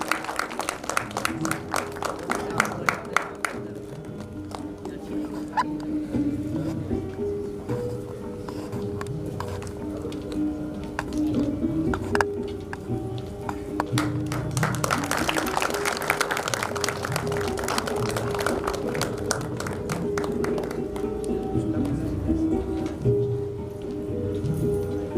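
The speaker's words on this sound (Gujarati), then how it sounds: "સર્વને ખૂબ ઉત્સાહપૂર્વક તાળીઓથી વધાવવા માટે વિનંતી છે." A hall audience at a Teachers' Day event claps loudly and continuously, a dense crackle of many hands that swells to its strongest around the middle and holds until the end.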